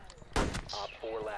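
Loud, close gunshots from a video game, a sharp burst followed by further crackling shots in quick succession with no voices.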